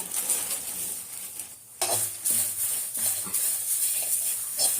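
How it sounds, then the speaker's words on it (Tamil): A handful of curry leaves dropped into hot oil crackle and sizzle loudly after a brief quiet moment, with steady frying hiss and occasional light stirring clinks against the pan. "இப்போ ஒரு பிடி கருவேப்பிலை போட்டுக்கிறேன் அதில், வாசனைக்காண்டி."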